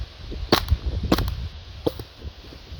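An Action Army AAP-01 gas airsoft pistol fires three sharp, close cracks, each spaced roughly two thirds of a second apart, with nobody talking.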